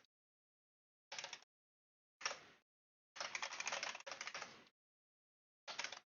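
Quick bursts of typing on a computer keyboard while writing code, five clusters of clicking keys separated by silences, close and crisp, with one short spoken word at the very start.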